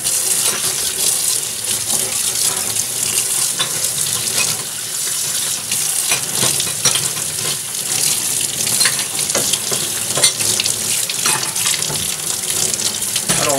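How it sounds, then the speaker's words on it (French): Hot water runs steadily from a tap over trumpet parts being rinsed in a sink, a continuous close splashing hiss with small clatters of the metal pieces, no talking. "Tu peux commencer à rincer normalement avec de l'eau chaude."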